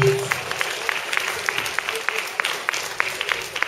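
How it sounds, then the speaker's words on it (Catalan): Audience at a school science congress clapping for the youngest children, with distinct individual hand claps in a light, fairly sparse pattern close by, lasting throughout. "Un aplaudiment als més petits."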